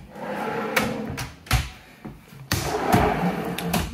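Drawers in a cedar tiny house slide open and shut, giving a sequence of wooden rumbles and thuds close by, with sharp knocks and a final longer slide in a quiet interior.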